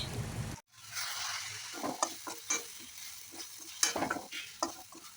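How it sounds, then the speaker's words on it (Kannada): A spoon stirs and mixes a stuffing of grated coconut, garam masala and gram flour for stuffed mirchi bajji, giving close, irregular scraping and clinking strokes with a faint sizzle-like texture underneath. "ಒಂದು ಸ್ಪೂನ್ ಕಡಲೆ ಹಿಟ್ಟನ್ನು ಹಾಕಿ ಮಿಕ್ಸ್ ಮಾಡ್ತೀನಿ"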